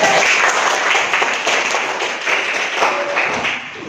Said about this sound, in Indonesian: Silakan berikan aplaus untuk.